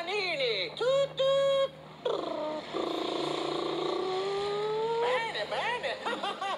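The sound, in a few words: dogs imitating boat engines roaring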